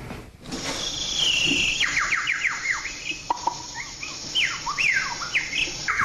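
A man imitates a high-pitched bird call with his voice, giving a rapid run of sharp, chirping warbles and swooping whistles in quick bursts, moderately loud against a quiet background.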